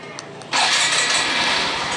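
A red Honda MSX motorcycle engine, new with 99 km on it, fires up on a remote alarm command after a brief beep or two, then settles into a loud, steady, close idle.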